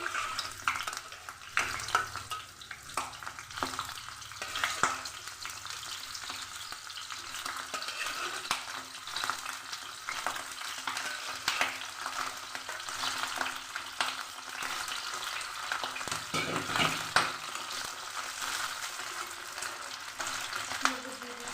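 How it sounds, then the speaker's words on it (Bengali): Cauliflower pieces lifted from water into hot oil, frying with a continuous crackling sizzle and occasional bursts and stirring scrapes, moderately loud and close throughout. "এবার আমি জলে থেকে তুলে নিয়ে গরম তেলের মধ্যে দিয়ে দিচ্ছি।"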